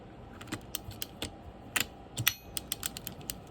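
Clicking and ratcheting from a Penn Senator 114H fishing reel as its drag is tested, a string of sharp, close clicks in irregular bursts with a few louder clusters, no talking.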